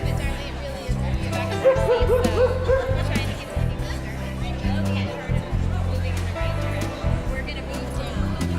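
Dogs bark and yip amid a crowd at an outdoor pet blessing, with music and chattering voices filling the background throughout.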